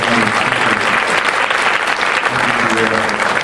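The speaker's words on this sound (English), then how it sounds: "Let's have them stand and give them a round of applause too" Sustained applause from a conference audience, dense and steady throughout, loud and close with a few voices mixed in.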